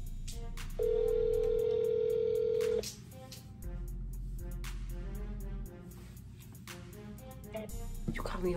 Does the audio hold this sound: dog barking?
no